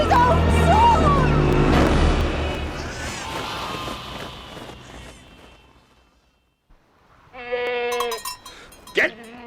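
A goat bleats loudly and up close after a burst of busy, noisy commotion, its wavering calls coming in short bursts near the end as voices carry through.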